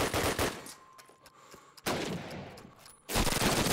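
Gunfire in Call of Duty: United Offensive, including a PPSh submachine gun: loud, rapid automatic bursts start and stop in three separate runs with short quieter gaps between them.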